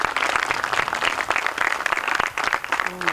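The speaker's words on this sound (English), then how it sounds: "please do give her a hand of applause this evening," An audience at an awards ceremony applauds. The clapping is loud, dense and continuous, with a crackling texture across the whole stretch and only a brief dip near the end.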